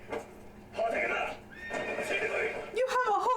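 A horse in an anime lets out two loud whinnies in succession, with a sharper snort-like neigh at the end, while reaction chatter from viewers mixes in underneath.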